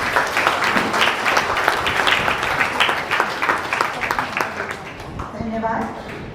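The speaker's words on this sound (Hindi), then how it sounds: "तो एक बार पुनः जोरदार तालियों से इनका उत्साह बढ़ाएं।" A school audience at a Hindi Day celebration claps for the children, a loud continuous burst of applause that gradually thins into scattered claps near the end, with voices mingled in.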